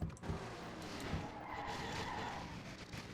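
Race trucks in an oval truck-series event skid and crash in a multi-truck pileup, one cartwheeling and flipping upside down; a sustained, loud roar of engines and scraping tires fills the scene with a few sharp impact thumps.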